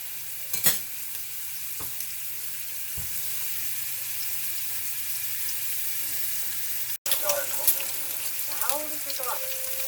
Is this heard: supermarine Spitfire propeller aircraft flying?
no